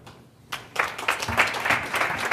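An audience at a NewSpace space investment conference bursts into applause after a speaker is introduced, starting suddenly and holding as a steady wash of clapping.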